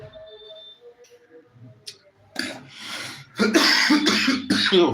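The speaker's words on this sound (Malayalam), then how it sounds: "ചുമ പിടിച്ചോട്ടോ" Several rough coughing bursts close to the mic, growing louder and clustered together in the second half after a quiet start.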